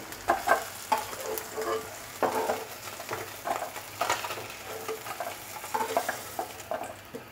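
Small Puti fish frying in a pan of hot oil as a Bengali curry is prepared, with a steady sizzle broken by repeated louder bursts of spattering and stirring, close by, with no voices.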